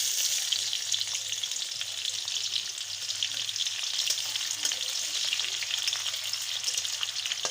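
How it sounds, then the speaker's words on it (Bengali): Chopped onion frying in hot oil for a chicken kosha, a bright steady hiss and crackle close by, even and unbroken, with no voices. "তেল গরম হয়ে গিয়েছে, পেঁয়াজ কুচি দিয়ে দেব।"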